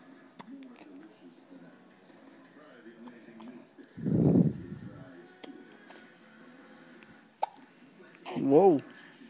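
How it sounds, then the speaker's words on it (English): Two distinct hiccups sound up close, each a short voiced jolt several seconds apart, with quiet talk and background murmur between them. "you got the hiccups?"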